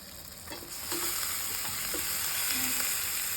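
Spice masala fries in oil with a continuous sizzle that swells partway through, while a utensil stirs and scrapes against the pot with a few clicks.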